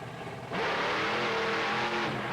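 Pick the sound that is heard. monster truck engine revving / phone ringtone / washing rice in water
monster truck engine revving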